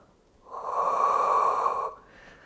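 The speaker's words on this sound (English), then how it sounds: "Take a deep breath in. Exhale." A single deep, forceful exhale during a standing Pilates strength workout, close and breathy, lasting over a second before fading into quiet.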